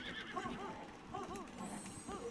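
A horse neighs and whinnies repeatedly in Zelda: Breath of the Wild, with bright, rising-and-falling cries close up over faint game ambience.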